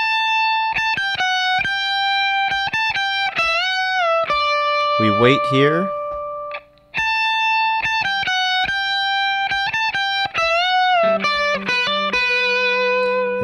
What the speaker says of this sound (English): we are going to do the main guitar lick